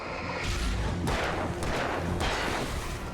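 Three heavy, booming gunshots in Alan Wake Remastered, spaced about a second apart over a low background rumble, punchy and close.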